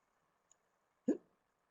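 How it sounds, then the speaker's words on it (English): A single sharp hiccup sounds out close and clear in an otherwise quiet room, preceded by a tiny faint click just before it. "How do you get rid of hiccups?"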